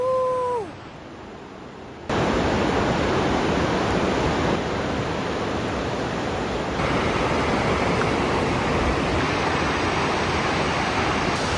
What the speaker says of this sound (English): Nearly at the waterfall.